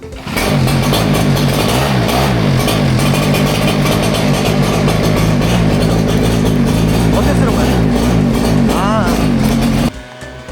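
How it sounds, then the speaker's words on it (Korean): A loud gasoline engine snow blower roars continuously at high revs for about ten seconds, harsh and close, then cuts off abruptly near the end. "엔진은 힘 플러스 풍량이 어마어마합니다. 대신 엄청난 소음과 매연 냄새가 심합니다"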